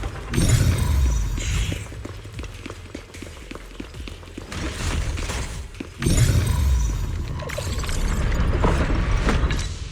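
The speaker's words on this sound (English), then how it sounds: "That's the sound of machinery." Machinery running in the video game Zenless Zone Zero: loud, continuous mechanical clanking and grinding with ratcheting clicks, surging strongly at the start and again around the middle.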